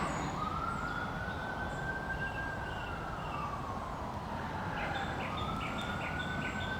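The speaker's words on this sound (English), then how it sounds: "Oh, sirens." Emergency vehicle sirens wail in the distance from a managed woodland, with one slowly rising and falling tone and faint birdsong over a steady background hush.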